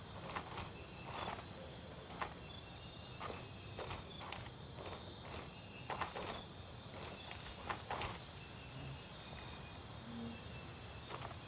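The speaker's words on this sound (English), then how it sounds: "I heard footsteps from over that direction" Footsteps in the survival game SCUM: faint, irregular steps crunching at a distance over a steady bed of cricket-like insect chirping and ambient hiss, with one or two slightly louder footfalls.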